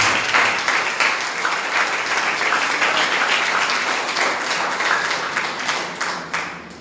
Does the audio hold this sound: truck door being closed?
no